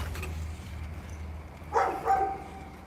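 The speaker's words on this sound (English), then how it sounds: "I hear a dog" A dog barks twice nearby, a pair of short, moderately loud woofs about a third of a second apart, heard alone over a low background rumble.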